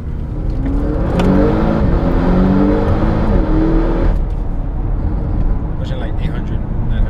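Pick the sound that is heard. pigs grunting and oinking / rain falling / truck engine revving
truck engine revving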